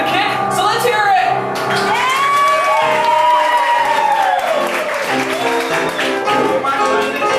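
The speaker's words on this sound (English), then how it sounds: "the louder you hoot and holler and clap those pretty little hands, the higher these girls are gonna kick" Loud crowd at Knott's Berry Farm in 2002 hooting, whooping and clapping for a kick-line dance show, shouts and rising whistles over steady applause.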